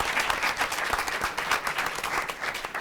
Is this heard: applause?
yes